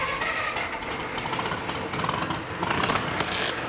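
A tugger engine with a weak battery cranks and struggles to start, giving a rough, continuous mechanical chatter close by with no one talking.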